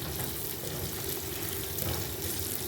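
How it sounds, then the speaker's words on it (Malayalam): Garlic, ginger and green chilli fry in hot oil for a mango pickle, making a steady, dense crackling sizzle that runs close and loud without pause, with no talking. "വെളുത്തുള്ളി, ഇഞ്ചി, പച്ചമുളക്, ഇത് 3 കൂടി ഒന്ന് വറുത്ത് ഞാൻ"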